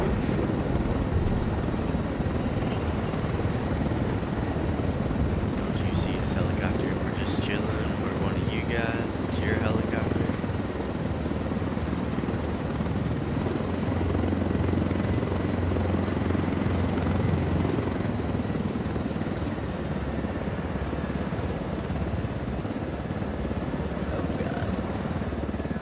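A helicopter in the video game Ghost Recon Wildlands keeps up a continuous rotor thrum and engine drone throughout, with brief sharp game effects early on.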